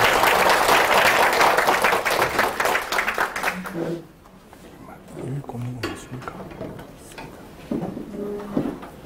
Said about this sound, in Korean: 교수님을 큰 박수로 응원해 주시기 바랍니다.